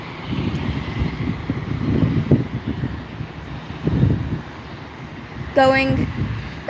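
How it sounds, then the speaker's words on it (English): An American Airlines Airbus A319 airliner at Santa Ana's SNA airport gives off a steady broadband jet roar with gusting wind noise on the microphone, and a brief tonal whine comes in near the end. "Next up here we have an American Airbus A319."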